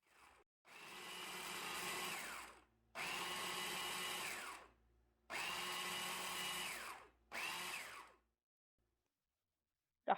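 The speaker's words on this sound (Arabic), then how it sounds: "راح أطحنها بنفس الخلاط اللي استعملته" A kitchen blender grinds partly thawed fruit for homemade ice cream in four loud whirring bursts separated by short silences, the last burst briefer than the others.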